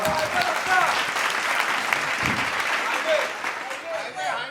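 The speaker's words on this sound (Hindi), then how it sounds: "एक बार जोरदार तालियां हो जाए" Loud, continuous applause from an audience at a Hindi poetry recital right after a poem, a thick wash of clapping with a few voices mixed in, fading slightly near the end.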